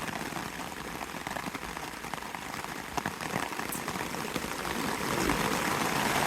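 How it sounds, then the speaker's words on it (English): Steady rain pattering on a surface, a dense continuous hiss with scattered drops, building slightly louder toward the end, no voices. "once this rain's done, it should be the end of it"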